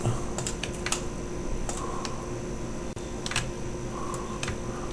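Computer keyboard and mouse clicks sound during 3D modelling work in Blender: scattered, light, close clicks in small clusters, with brief pauses between them, over a faint steady background hum.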